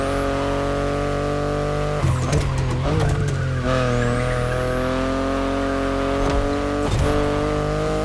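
A BMW i8 drives in The Crew Motorfest, its engine holding a loud, steady tonal drone with shifting pitch, broken by bursts of tire squeal and skidding partway through, close and continuous.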